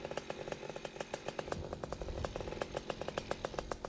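An Air Conception Delta 200 Nitro paramotor engine with electric start and clutch runs steadily just after starting, a close, buzzing idle with regular rapid firing pulses throughout.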